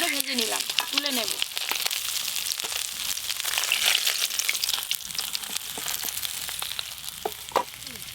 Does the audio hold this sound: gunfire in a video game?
no